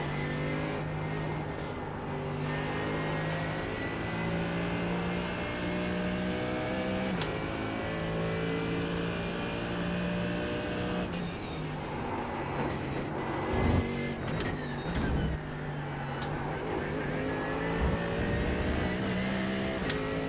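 A Lamborghini GT3 race car at Suzuka in a racing video game, with a steady loud engine drone whose pitch rises and falls through gear changes and corners, plus occasional sharp clicks and bumps.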